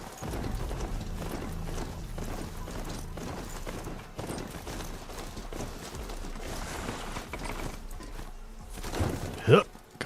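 Mounted horse's hooves clip-clopping in the video game Horizon Zero Dawn Remastered, a steady trotting rhythm running throughout beneath background game sounds and voices.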